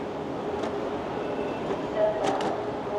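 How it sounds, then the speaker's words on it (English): A Washington DC metro subway train rumbles at a moderate distance with soft rail clatter and a brief rise in level, while a person speaks over the steady background noise. "That's an actual subway train in there, metro train"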